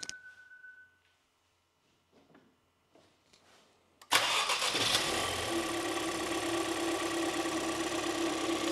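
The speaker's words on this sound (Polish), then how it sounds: "nam teraz auto odpali" A car engine cranks and catches after a few seconds of near silence with faint clicks, then settles into a loud, steady close-up running roar.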